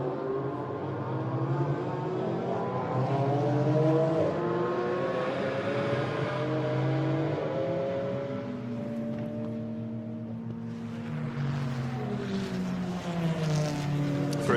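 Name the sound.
GT4 race cars at Hockenheim qualifying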